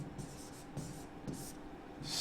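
Faint scratchy strokes of handwriting, a few brief swishes of pen or chalk on a surface, soft and close against a quiet background with no talking.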